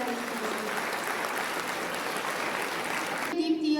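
Audience applause at a community gathering in Bagalkot, a steady, dense wash of clapping from a large crowd that carries on throughout and swells slightly at the end.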